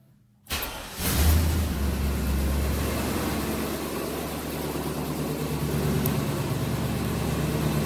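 A dually pickup truck's engine, just back from an exhaust leak repair, starts up after a brief quiet moment and then settles into a steady, low, rumbling idle close to the microphone.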